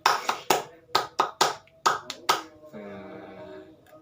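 Several sharp hand claps from a group in a quick rhythmic pattern, fairly close, followed by a short stretch of voices.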